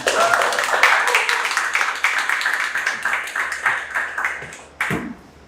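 An audience claps for poet Hasan Namir after his reading, a dense burst of hand claps that thins out, with a brief louder sound near the end as a voice starts to talk.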